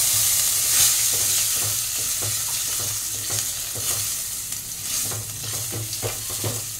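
Chopped garlic and white sesame seeds fry in hot oil with a continuous close sizzle, broken by repeated scraping strokes of a spatula stirring the pan; no talking.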